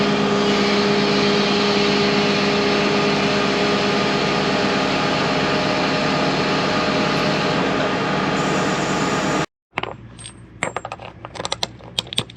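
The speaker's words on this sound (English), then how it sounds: "Now I gotta start the tractor" A farm tractor engine runs in a loud, steady droning hum, then cuts off abruptly, followed by scattered metallic clanks and taps.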